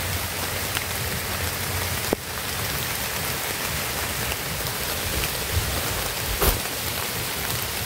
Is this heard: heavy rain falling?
yes